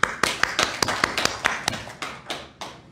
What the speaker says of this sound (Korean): 믿는 박수 올려드리겠습니다